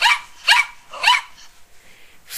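A puppy barks three times at an even pace, close and sharp, with a softer yip trailing after.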